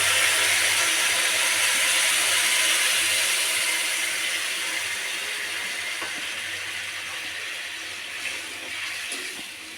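Tamarind paste hits a hot pan in a loud, steady sizzle and hiss that fills the clip, slowly easing off, with a faint low hum beneath.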